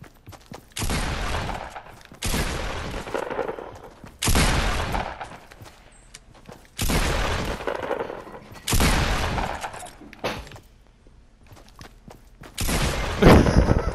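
Repeated heavy shotgun blasts in the Fortnite video game, five or six loud bursts spaced a couple of seconds apart, each with a sharp attack and a ringing tail, with no talk over them.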